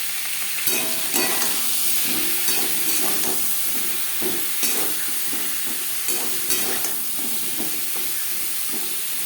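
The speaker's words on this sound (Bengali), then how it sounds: "পটল হালকা করে ভেজে নেব" Pointed gourd frying in a pan with salt and turmeric, a continuous close hiss and sizzle broken by regular spatula stirs and scrapes against the pan, with no talking.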